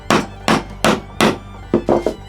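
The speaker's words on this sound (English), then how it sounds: "I think if I get a heavier hammer, I can actually tap this in now." Hammer tapping a hardwood dog hole insert into a workbench: six sharp, loud knocks, the first four evenly spaced and the last three quicker, with no talking.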